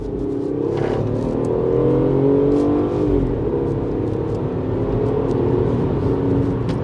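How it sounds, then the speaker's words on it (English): A 1.5 F56 MINI Cooper pulls away in a quick launch in second gear, a loud close engine drone rising steadily in pitch as it accelerates, with road rumble beneath. "Put it to second gear now. Do a quick launch here."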